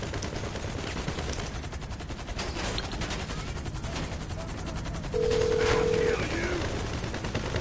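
Rapid gunfire in GTA 5 Online, a dense stream of shots running through the whole stretch with a louder burst near the end, mixed with game sounds and voices.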